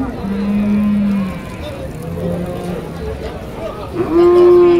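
Dairy cows at a village cattle market in Deohata, Tangail, give two long, loud moos, one near the start and one at the end, with crowd and market bustle murmuring in between.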